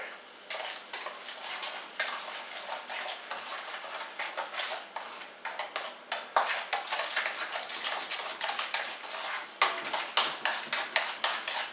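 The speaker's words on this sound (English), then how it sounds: "And we'll mix this all together." Broccoli cheddar salad being tossed together in a bowl, with a steady run of clinking, scraping utensil taps and moist rustles, fairly close and continuous with no talking.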